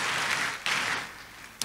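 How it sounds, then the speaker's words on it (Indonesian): A church congregation claps during a sermon, a brief, faint, distant wash of applause that fades toward the end. "Kasih tepuk tangan yang meriah untuk Tuhan Yesus."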